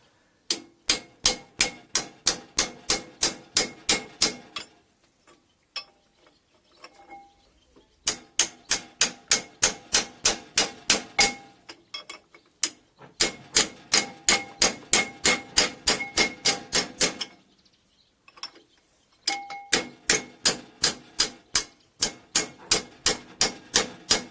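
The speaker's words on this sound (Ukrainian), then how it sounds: "беремо ключ і будемо відкручувати гайку" A ratchet wrench unscrews a nut on a walk-behind tractor engine. Rapid, evenly spaced metallic clicks come in several long runs, separated by short pauses, sounding close and crisp.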